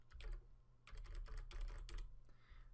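Quick bursts of close, quiet typing on a computer keyboard entering figures into a spreadsheet, clustered keystrokes with short pauses between them.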